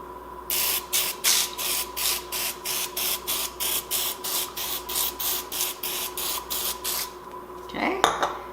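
Sweet plantain slices get misted with oil before air frying: a steady run of about twenty short, hissing spray bursts in even rhythm, close and fairly loud, ending with a brief clatter.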